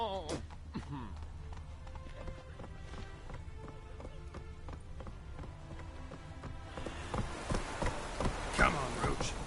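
Roach, a horse in The Witcher 3 game, gallops with rapid rhythmic clip-clop hoofbeats over a busy game soundscape, growing louder and more intense toward the end, with someone talking intermittently.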